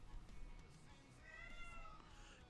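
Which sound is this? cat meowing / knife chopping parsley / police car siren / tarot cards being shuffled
cat meowing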